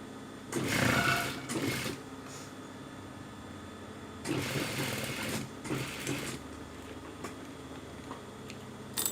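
A sewing machine runs in two separate bursts of rapid stitching along a fabric hem, each lasting a second or two, close and moderately loud with quiet pauses between.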